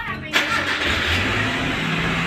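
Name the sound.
fuel-injected car engine starting and idling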